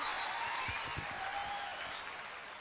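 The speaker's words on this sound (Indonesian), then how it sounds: "Kasih tepuk tangan dong sekali lagi buat teman-teman Pak Ahok" Applause from an audience at a talk show taping, a steady wash of clapping through the whole stretch, fairly even and slowly tapering, with faint voices beneath.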